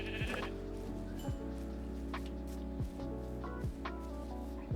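Sheep bleating in Minecraft, several short, distinct bleats spaced irregularly over a steady soft background hiss, fairly close and clear.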